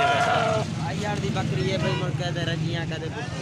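A somewhat sick goat bleats at a livestock market, a wavering cry heard near and loud, with people talking over and around it.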